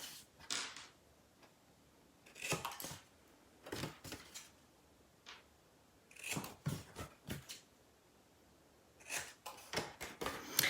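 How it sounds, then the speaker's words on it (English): Scissors snip in short bursts of several quick cuts, separated by quiet pauses, close and fairly soft. "I'm just going to take my scissors and cut straight across"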